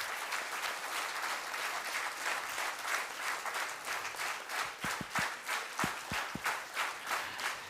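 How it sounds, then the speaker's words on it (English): An audience at a spiritual talk gives a steady round of applause, many hands clapping in a dense, moderately distant wash, with a few sharper nearby claps standing out toward the end. "let's once again give a big round of applause to them"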